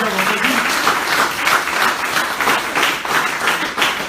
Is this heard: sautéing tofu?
no